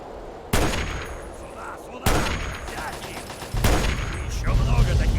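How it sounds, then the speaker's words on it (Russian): Turret fire in the game Fallout 3, three sharp, loud bursts spaced a second or so apart, each trailing into a rumbling echo over constant background noise. "О, турель."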